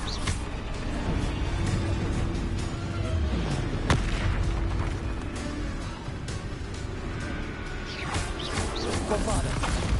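Confringo blasting spell explosions in Hogwarts Legacy amid spell combat, repeated loud booms and crackling bursts over a continuous rumbling din, with a voice speaking at times.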